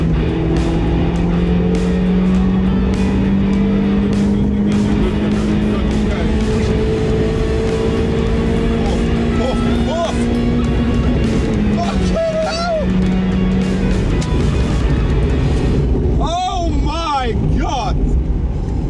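A Mazda MX-5 lapping the Nurburgring at speed, its loud in-car engine note climbing steadily through the gears, then dropping under braking with shifts and tyre squeals near the end. Voices talk over it throughout.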